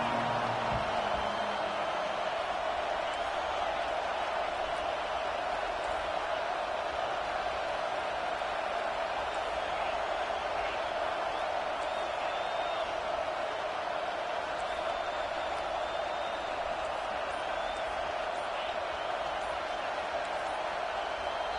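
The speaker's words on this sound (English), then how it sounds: "with this place rocking, the crowd forces a false start" Steady, dense stadium crowd roar from a College Football 25 game in Oregon's home stadium, a loud continuous wash of noise with no breaks across the whole stretch, the place rocking enough to force a false start.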